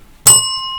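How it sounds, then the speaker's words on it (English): A single bright bell ding rings out sharply, then its clear metallic tone lingers and slowly decays. "Please refrain from nefarious bells"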